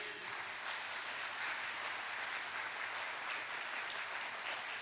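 A church congregation at a healing prayer service claps hands together, a dense steady patter of applause held evenly throughout at moderate distance.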